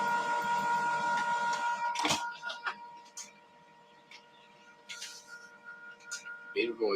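An office printer runs invoices with a steady mechanical whir, broken by sharp clacks and paper-feed clicks, fairly close, with faint background noise and brief quieter stretches between passes.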